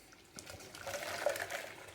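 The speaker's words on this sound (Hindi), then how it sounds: "अब इसको हटा देंगे और अब इसका सारा पानी निकाल लेंगे।" Hot water poured off a pot of boiled peas in a home kitchen, a faint, soft trickle and splash that builds after a quiet start and continues steadily.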